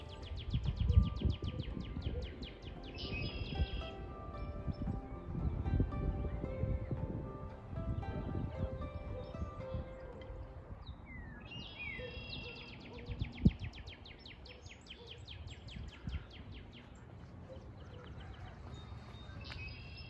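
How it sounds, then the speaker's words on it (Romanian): Birds chirp and tweet in repeated bursts over a busy outdoor background with low rumbling noise in America, the calls moderately distant and steady throughout. "V-am lăsat puțin să ascultați ciripitul păsărilor"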